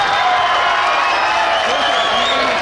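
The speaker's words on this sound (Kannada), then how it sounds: "ಬರಲಿ ಜೋರ ಚಪ್ಪಾಳೆ" Crowd at a state-level kabaddi match between Kashi Viswanatha and Onde Bharath, a steady wash of cheering and clapping filling the whole stretch, loud and continuous with no clear breaks.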